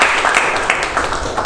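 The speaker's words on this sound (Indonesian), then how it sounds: "Oke, tepuk tangan dulu untuk kita semua ya." A school class in a chemistry lesson claps together for a short burst, with fairly loud, busy hand claps filling a small room.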